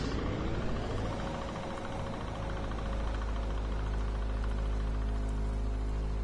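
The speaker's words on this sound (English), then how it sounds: "Let's get the vacuum cleaner on." A vacuum cleaner runs aboard the vehicle in the video game Far: Lone Sails, giving off a steady, loud broadband whoosh and hum with a low rumble underneath, unbroken throughout.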